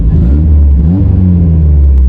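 A car engine revs loudly up close, a deep rumbling roar that swells and settles over a couple of seconds.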